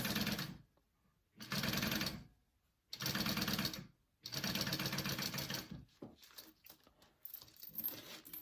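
Sewing machine stitching down a zipper on a fabric bag, rapid steady needle chatter in three bursts separated by short pauses, then lighter intermittent clicks and handling sounds, close and clear.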